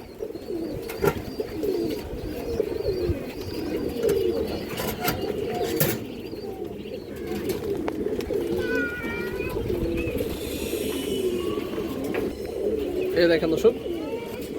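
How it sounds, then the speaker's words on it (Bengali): Pigeons coo softly and repeatedly in the background at a pigeon sale while a person talks nearby, with occasional faint chirps and rustling. "খুবই সুন্দর একটা মাদি কবুতর"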